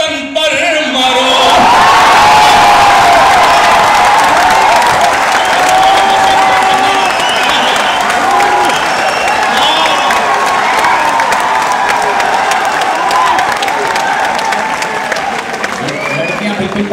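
An audience at a Hindi poetry gathering (kavi sammelan) bursts into loud, sustained applause with cheers and whoops, a dense crowd roar that holds for over fifteen seconds.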